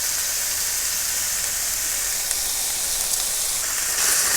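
Pork stir-fried with broccoli, chili oil, raw bean sprouts and oyster sauce over high heat, giving a steady close hiss and sizzle throughout with no voices.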